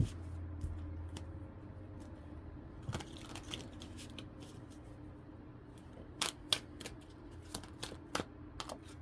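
Quiet shuffling of cards, soft papery rustles with scattered crisp clicks and snaps that cluster more densely toward the end, with no talking.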